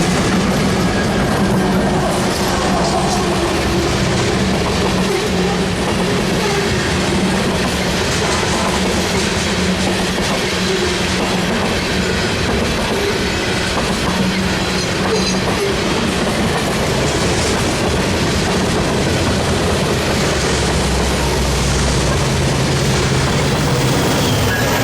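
A CPKC freight train passes at Roselle, a long continuous rumble of rolling cars with clickety-clack from the wheels and occasional heavy thumps, loud and steady, with some voices in the background.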